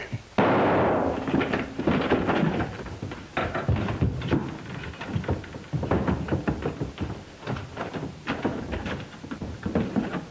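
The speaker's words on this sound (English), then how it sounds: "who's doing all the shooting?" Repeated sharp gunshots crack through a 1945 western film scene, an irregular series of loud reports over a few seconds with a dense, busy soundtrack beneath them.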